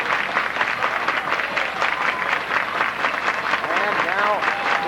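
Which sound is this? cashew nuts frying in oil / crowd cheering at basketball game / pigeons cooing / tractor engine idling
crowd cheering at basketball game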